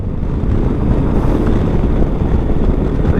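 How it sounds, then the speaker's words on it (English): Wind buffets off the windscreen of a 2020 Yamaha Tenere 700 Rally Edition motorcycle on the move. A loud, continuous low-pitched roar rumbles steadily throughout, with no speech. "It's only that wind buffeting from the windscreen is tiresome."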